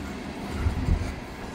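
A long grain train grinds up a steep grade in a steady, close low rumble that swells slightly midway, with no voices over it.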